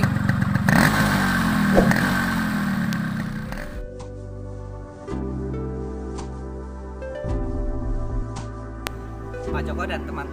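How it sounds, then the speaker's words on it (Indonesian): A 2004 Yamaha RX King motorcycle with its standard exhaust runs nearby, its engine note steady with a few shifts in pitch, sharp and dry in tone. Clattery handling noise and voices come first, before the engine settles into a steady idle. "Knalpot juga masih standar, jadi knalpot suaranya masih kering"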